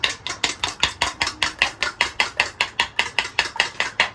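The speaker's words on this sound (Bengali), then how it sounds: "লবণ দিয়ে তাকে ফেটাবো।" An egg is beaten with salt in a bowl, a fast, steady run of sharp clinking strokes against the bowl, loud and close, about four or five per second with no pauses and no talk.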